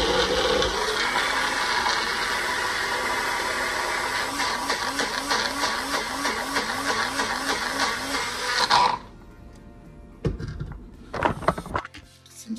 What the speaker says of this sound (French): on referme le blinder, et on va venir mixer